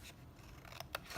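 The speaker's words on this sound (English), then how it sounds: "So I'm just going to go ahead and cut all the corners off" Scissors snip the corners off a paper book jacket, with a few quick quiet cuts and a couple of crisp closing snips near the end, close up with no talk.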